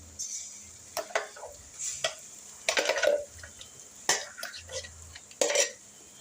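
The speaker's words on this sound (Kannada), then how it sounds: "ಇವಾಗ ರುಬ್ಬಿದ್ದ ಮಿಶ್ರಣ ಚಟ್ನಿ ಹಾಕ್ಕೊಳ್ಳೋಣ" Ground tomato chutney paste added to a hot pan and stirred with a spoon, giving bursts of sizzling and spatula scraping against the pan in irregular strokes, fairly close.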